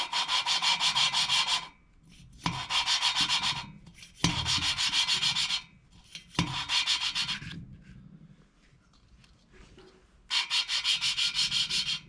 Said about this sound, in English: take your valve lapping tool,